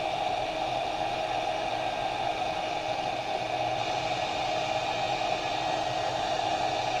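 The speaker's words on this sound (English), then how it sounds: "I get the heat gun going" A heat gun runs steadily for embossing on a card, a continuous blowing whir with a constant tone, close and unbroken throughout.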